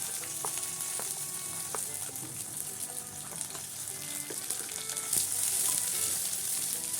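Small onions (shallots) fry in oil with curry leaves and green chillies for a pepper kuzhambu, giving a steady, close, even sizzle with a few faint stirring clicks and no talking.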